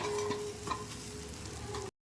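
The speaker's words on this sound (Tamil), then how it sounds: "நம்ம பொறிச்சு வச்ச காலிஃப்ளவரை போட்டு ஒரு பரட்டு பரட்டிங்க" Cauliflower stir-fried in a pan, with steady sizzling and frying and occasional scraping stirs, continuous and close, then cutting off abruptly at the end.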